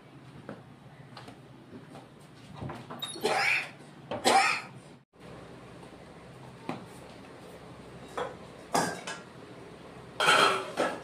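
Metal lid set onto a cooking pot of lentils with bottle gourd greens, giving several sharp clanks and clatters scattered through the clip against quiet kitchen background, with no talking.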